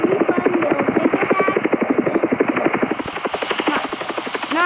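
Helicopter in a video game, its rotor chopping in a steady loud pulse with a whining engine tone throughout, alone without talk.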